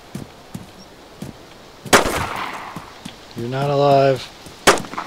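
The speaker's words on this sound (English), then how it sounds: "I told you they were shooting!" Gunfire in DayZ on a crowded 75-player server: a sharp, loud shot stands out, with a second one near the end and fainter distant pops before it, while someone speaks briefly between them.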